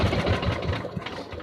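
A small fishing boat's engine chugs with a rapid knocking pulse as it tries to start, close and rough, sputtering over a short moment.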